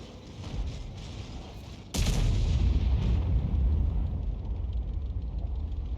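Heavy tank gun rounds from FV4005 tank destroyers in World of Tanks: distant rumbling gunfire builds into a sudden loud boom near two seconds, followed by a sustained roaring barrage with no talk.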